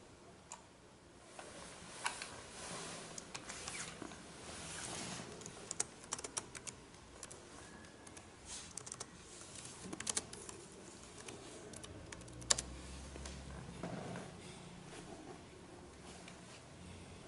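Typing on a computer keyboard, a quiet, irregular run of soft clicks and taps close by, continuing steadily with occasional sharper keystrokes and no voice.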